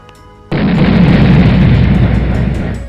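In an animated game story, monster-shaped arrow shots explode in one sudden loud boom that roars on and then slowly fades out.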